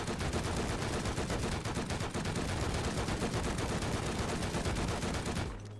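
Sustained rapid-fire shooting at an attack helicopter in the Rust video game: a dense, unbroken stream of loud, close shots for about five seconds that then cuts off abruptly.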